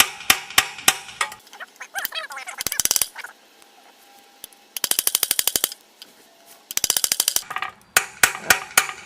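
Sharp metallic hammer blows on a steel chisel cutting into a rusty lamp post, struck in rapid bursts of ringing clangs separated by quieter pauses, close and loud.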